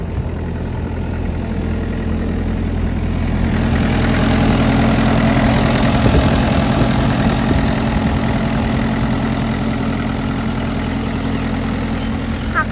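A Kubota four-cylinder diesel engine on a 5-ton excavator idles steadily nearby, a low rumbling drone with slight knocking that swells a little partway through.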